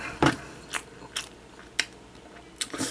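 Crisp bites and crunchy chewing of a microwaved convenience-store grilled galbi dumpling: a loud initial crunch followed by four or five sharp, evenly spaced crunches, close up with quiet between.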